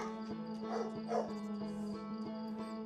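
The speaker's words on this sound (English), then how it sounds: "What are you barking at?" A dog barks and yips in short, repeated bursts indoors. A steady electronic tone from Outer Wilds game audio runs underneath.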